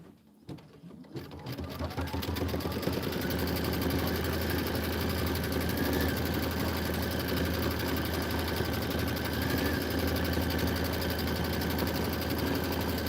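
An embroidery sewing machine stitches out a Kimberbell Enchanted Winter design with a steady, continuous mechanical whir and rapid needle chatter. It starts up in the first second or two, then runs at an even level throughout, with no talk.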